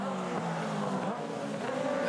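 An Aussie Racing Car brakes hard and aquaplanes through a puddle at Symmons Plains, its engine note droning steadily with rising tonal whine and hiss of spray throughout, heard from a trackside distance.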